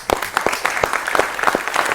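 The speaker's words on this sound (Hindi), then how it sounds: "पहले जोरदार तालियों से स्वागत कीजिएगा" A crowd gives loud, dense applause to welcome Vir Chakra-winning war heroes, many overlapping claps forming a continuous roar close by.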